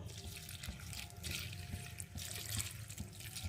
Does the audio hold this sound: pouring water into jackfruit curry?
yes